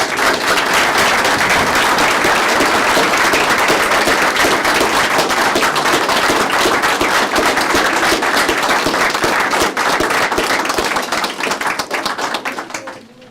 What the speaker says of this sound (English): let's give these kids a real round of applause